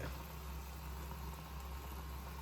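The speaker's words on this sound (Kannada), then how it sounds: "ಕುದಿಲಿ ಕುದಿಲಿ ಎಲ್ಲ ಕರೆಕ್ಟಾಗಿ ಚೆನ್ನಾಗಿ ಕುದಿಲಿ" A steady, even bubbling hiss of water boiling hard with noodles in a pot, continuous and close with no pauses.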